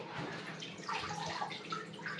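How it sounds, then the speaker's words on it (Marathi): Water drips and trickles from a soaked waterproof paper pattern into a bucket, a steady close wet patter without voices. "त्याच्यात पाणी गळतंय बघू शकता तुम्ही"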